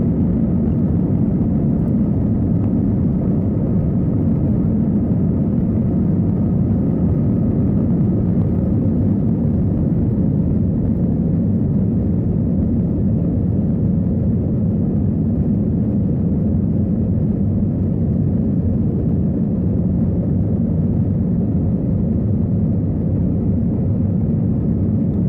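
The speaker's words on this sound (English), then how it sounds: "let's take a look at American Airlines Flight 643 departing Charlotte" American Airlines Airbus A321 taking off from Charlotte Douglas International Airport, heard from a window seat in the cabin as a loud, steady, low engine roar with broadband rumble that holds throughout, with no talking.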